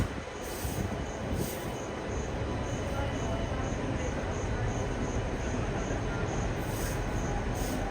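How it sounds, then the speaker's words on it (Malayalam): South Bihar Express train pulling out of a station, a loud continuous rumble of wagons rolling past with wheel squeal and rhythmic clicks, close by, with some indistinct background voices. "ദുർഗ് ജംഗ്ഷന്ന് അറ ജംഗ്ഷനിലേക്ക് പോകുന്ന സൗത്ത് ബിഹാർ എക്സ്പ്രസ് ഇവിടുന്ന് എടുത്തിട്ട് പോവുകയാണ്."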